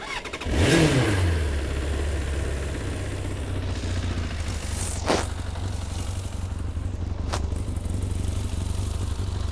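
A 1985 Suzuki GSXR750F motorcycle with a pumper carburetor cranks and catches, then settles into a loud, steady idle, broken by two sharp throttle blips.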